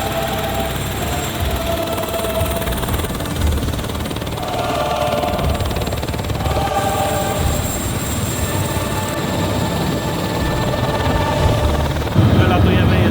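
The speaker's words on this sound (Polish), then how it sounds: "w tle możemy zobaczyć helikopter" A helicopter drones steadily with a throbbing rotor hum and engine whine, holding at a constant level throughout, at Niagara Falls.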